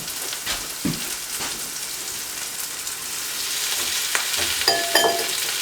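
Potatoes and leeks frying in a pan, a soft steady sizzle with occasional spoon scrapes and stirring clicks, fairly quiet and close, with no talking.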